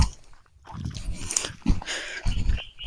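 Close crunching and chewing of raw horse gram seeds outdoors in a farm field, a few seconds of irregular bites and mastication up close.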